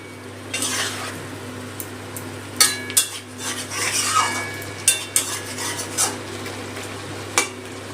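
Bori and sugar being stirred into vegetables in a pan, a series of spoon scrapes and knocks against the metal, scattered and close, over a steady low hum with no talking.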